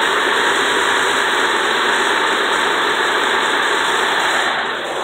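A 2004 Ford Freestar engine with a misfire idles steadily up close, a continuous loud rumble with constant vibration and no talking.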